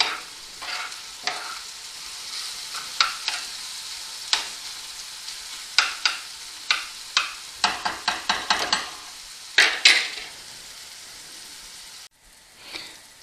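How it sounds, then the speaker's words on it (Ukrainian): Onions frying in a pan give a steady sizzle, with repeated sharp crackles and pops over a continuous hiss, and no voices. "Тепер смажимо цибульку."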